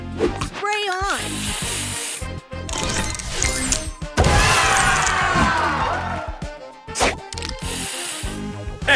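Booster spray effects in the Match Masters puzzle game come in as hissing spray bursts mixed with crashes, whooshes and cheering jingles, with an announcer-style game voice calling out between the effects.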